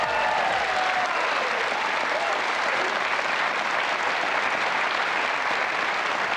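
A television studio audience cheers and applauds continuously, a dense, steady wash of clapping with voices mixed in throughout.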